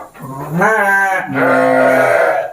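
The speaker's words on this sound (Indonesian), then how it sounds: "Dorper itu bangsa domba baru yang memang sekarang lagi ya ngetren lah katakan di Indonesia" A Dorper sheep, a Dorset and Persian crossbreed, bleats in two long, loud, wavering calls close by, with no voices.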